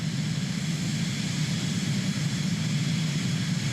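Steady, loud cabin drone of a Cirrus Vision Jet G2 jet engine in Microsoft Flight Simulator 2020, a continuous low roar with broadband hiss held evenly throughout, no voices.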